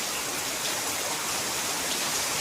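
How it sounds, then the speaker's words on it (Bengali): Heavy rain pours in a dense, steady roar across a waterlogged home courtyard, unbroken and fairly close, with no voices. "দেখুন কি অঝরে বৃষ্টি পড়ছে"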